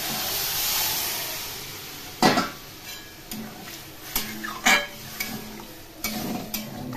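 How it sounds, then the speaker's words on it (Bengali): Water going into a pan of sautéed teasel gourd and potato curry, a soft hiss and steam at first, then several sharp scraping stirs and clinks of a utensil against the pan. "কষানো হয়ে গেছে, এখন এর মধ্যে জল দিয়ে দেবো।"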